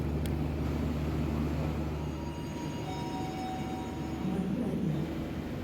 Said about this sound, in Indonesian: kereta api Argo Merbabu akan segera diberangkatkan dari stasiun Semarang Tawang